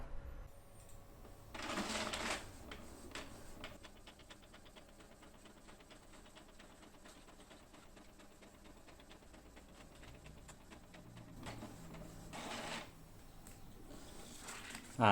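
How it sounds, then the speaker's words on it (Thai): A home printer running off a page on plain A4 paper, with a steady mechanical whir and rapid rhythmic clicking over about fifteen seconds, framed by louder paper-feed bursts near the start and end. "เลือกพิมพ์เตอร์ที่เราจะพิมพ์นะครับผมใช้พิมพ์เตอร์ตัวนี้อยู่นะครับ"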